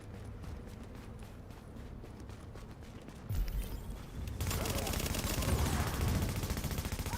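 Gunfire in The Division, a steady low game ambience giving way to loud, dense rapid shooting and crackling bursts during the second half.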